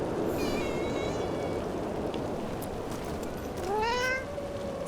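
In Dragon Age: The Veilguard, a cat gives two clear meows, one early and one near the end, over a steady ambient hiss of rain-like background noise.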